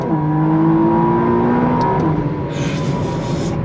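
A 2025 McLaren Artura Spider supercar revs hard toward 8,500 RPM, its loud, steady engine note climbing in pitch and then dropping at a single gear change before pulling again.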